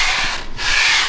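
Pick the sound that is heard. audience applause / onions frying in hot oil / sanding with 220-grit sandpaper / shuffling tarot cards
sanding with 220-grit sandpaper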